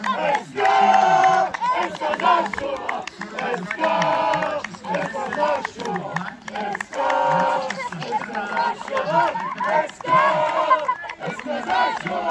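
Football fans of SK Zašová chant and shout in rhythmic bursts as a crowd, loud and close, with short pauses between the chanted phrases.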